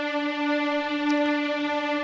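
Hans Zimmer Strings sample library heard through the close microphone position: a sustained, steady string chord with a bright, harmonically rich tone, held evenly and at close range.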